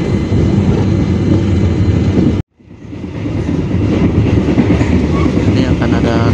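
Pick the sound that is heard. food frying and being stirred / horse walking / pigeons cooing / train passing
train passing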